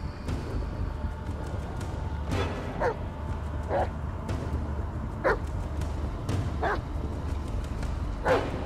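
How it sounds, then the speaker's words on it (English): A dog in the Blair Witch video game gives a series of about seven separate barks and whimpering yips, spaced a second or so apart over a low, steady ambient rumble. "Why is the dog getting close?"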